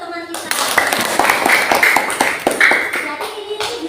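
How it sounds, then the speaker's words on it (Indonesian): A classroom of students claps for a classmate, a burst of quick, loud, uneven hand claps lasting a few seconds, with a teacher's voice speaking briefly at the start. "Beri tepuk tangan untuk teman kita."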